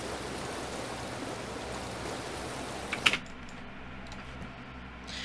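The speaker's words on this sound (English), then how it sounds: "Now we got some white noise here, so I made this from a field recording." A white-noise sample built from an outdoor field recording for electronic music production: a soft, steady wash of hiss like rushing water that stops with a small click, leaving a much quieter, thinner background.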